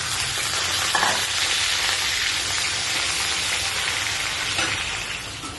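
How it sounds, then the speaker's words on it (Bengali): Bitter gourd slices frying in hot oil until reddish brown, a steady close sizzle with crackling spatter throughout, no talking. "এবার দিয়ে দেবো উচ্ছেগুলোকে আমি লাল লাল করে ভেজে নেব"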